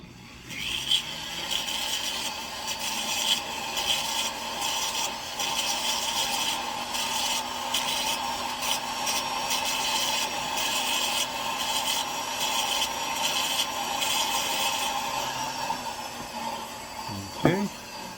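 A metal ring being sized up is filed, making a steady, close rasping scrape that runs almost without a break, with a brief sharper knock near the end.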